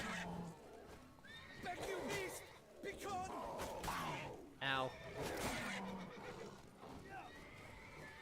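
Roach the horse in The Witcher 3: Blood and Wine gives a loud whinnying neigh amid hoof clops and game sounds, while a person talks over it throughout.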